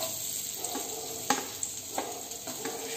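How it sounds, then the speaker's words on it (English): Chopped onions fry in refined oil with red chili, giving a soft continuous sizzle while a utensil scrapes and stirs the pan several times, close up and without speech. "Fry it until it is translucent"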